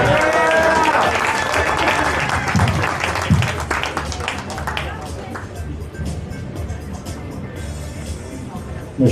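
An audience claps for panel speakers at a changemakers summit, a loud burst of applause that thins out as a voice speaks over it, with a brief swell near the end.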